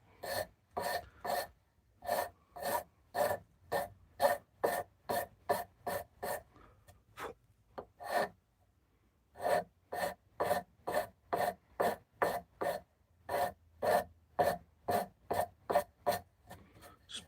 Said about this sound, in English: it's amazing how delicate you can be with this rasp